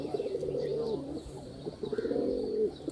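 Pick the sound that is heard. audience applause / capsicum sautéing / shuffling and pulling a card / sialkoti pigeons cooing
sialkoti pigeons cooing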